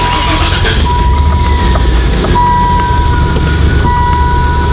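A Ford Probe GT engine idles after a repair, a steady low rumble with a faint whine held close and even, no voices over it.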